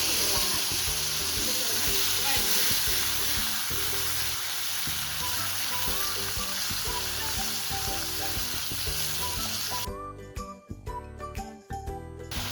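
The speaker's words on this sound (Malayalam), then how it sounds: "സവാള നമ്മൾ വഴറ്റിയിട്ടുണ്ട്." Sliced onions, bay leaves and whole spices sizzle and fry in a hot pan for aloo chana, a steady close crackle with light metallic clinks, fading into sparser bubbling and tapping near the end.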